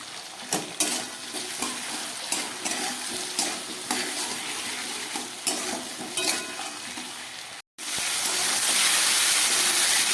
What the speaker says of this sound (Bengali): নুন হলুদ দিয়ে খুব ভালো করে ভেজে নিলাম আবারও